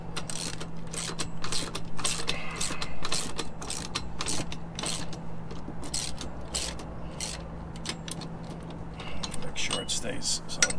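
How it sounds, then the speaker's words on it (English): Torque wrench ratcheting while tightening SumoSprings bolts on an Alliance fifth wheel trailer: a quick train of close, crisp ratchet clicks in bursts that continues for about eleven seconds under a faint steady hum. "And then we tighten these down to about 10 foot-pounds of torque, which is not much."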